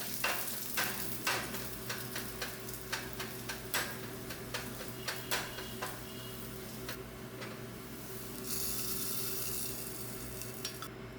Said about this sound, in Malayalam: ഇനിയിപ്പോൾ ഇതാ വെളിച്ചെണ്ണയിൽ ചെറിയ ഉള്ളി അത് വഴറ്റിയിടാം